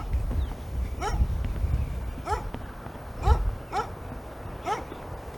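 Several dogs behind a fence bark in short bursts at a visitor, roughly five sharp barks spaced a second apart over an outdoor background rumble, fairly close.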